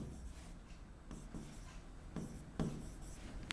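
Marker or chalk strokes on a classroom board as a chemical name is written out during an organic chemistry lesson, giving a soft continuous scratching with a few firmer strokes, close and alone without talk.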